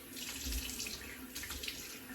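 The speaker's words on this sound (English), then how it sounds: "just gonna rinse it off. Simple water rinse." A bathroom tap runs steadily into a sink while a face is rinsed after shaving, a continuous soft splashing flow with small bursts as hands dip into the water.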